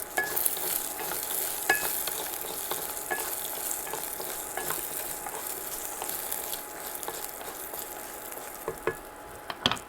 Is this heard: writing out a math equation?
no